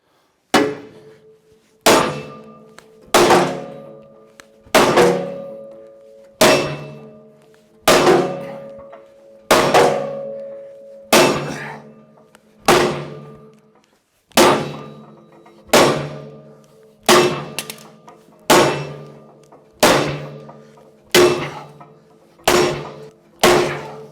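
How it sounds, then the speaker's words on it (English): A sledgehammer strikes bent quarter-inch steel plate on a Dyna wood processor, fifteen or so heavy ringing clangs at a steady, spaced rhythm, loud and close. "I'm gonna try to take a sledgehammer and beat it back up"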